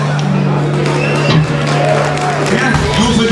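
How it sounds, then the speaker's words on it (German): Crowd at a rock night concert briefly cheers and claps, a loose burst of whoops and applause over a steady hum, with a voice talking through it. "Kleiner Applaus."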